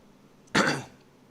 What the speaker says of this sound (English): Sorry for coughing into the mic.